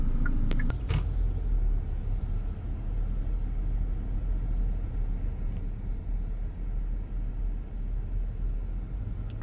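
Steady low road rumble from inside a car driving through a wealthy residential neighborhood, with continuous engine and tyre drone and a couple of faint knocks near the start.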